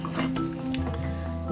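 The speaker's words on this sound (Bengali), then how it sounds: "এই কারণে এভাবে কিছুক্ষণ পর পর নাড়া দিচ্ছি আমি।" Beef cooked without onion is stirred in a hot pan, with a steady close sizzle and soft scraping and squishing of the meat as it is turned.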